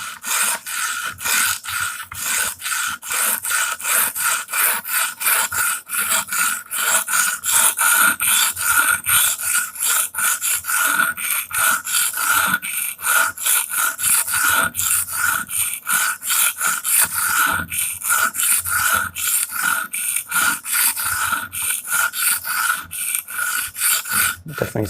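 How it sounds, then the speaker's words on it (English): A Damascus steel dagger is sharpened on an Edge Pro Apex stone, giving a steady, rapid rasping scrape of blade strokes that repeat rhythmically and close up for the whole stretch, with no talking. "let's get that bevel built on"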